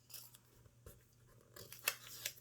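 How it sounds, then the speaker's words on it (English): Sticky Post-it notes peeled off a planner page give soft crinkly rips and papery rustles in a few uneven bursts, close and fairly quiet. "So I'll go ahead and peel these Post-its."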